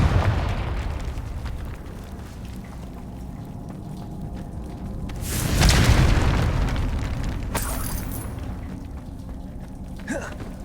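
A Confringo spell blast in Hogwarts Legacy gameplay erupts into a loud, rumbling boom midway through, swelling and fading over a couple of seconds against constant background game ambience, with a sharper burst following shortly after.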